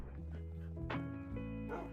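Tamed dogs in the video game Minecraft give a few short yips and barks close by, set against a steady background tone from the game.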